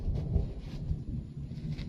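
Low thunder rumbles softly after rain, a dull continuous murmur in the distance with faint wind-like hiss, no voices present.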